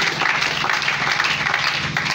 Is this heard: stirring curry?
no